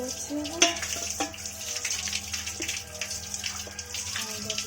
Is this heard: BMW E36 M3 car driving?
no